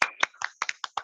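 A small class claps for a pupil in an online lesson, a handful of sharp, close, separate hand claps in an uneven rhythm with short gaps between them.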